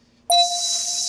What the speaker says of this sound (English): listen for the bell